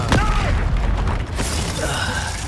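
A loud explosion bursts out in Hogwarts Legacy during a fight with Ashwinders, a sharp boom near the start followed by rumbling action and crackle, with clipped voices and spell effects mixed through.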